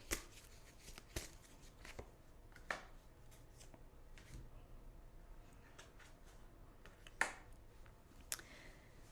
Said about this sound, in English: let's choose a card for an affirmation for the day